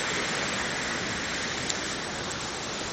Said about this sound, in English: there's a pretty serious waterfall over here too.